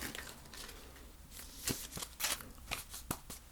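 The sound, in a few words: shuffling a deck of cards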